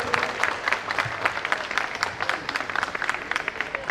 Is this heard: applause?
yes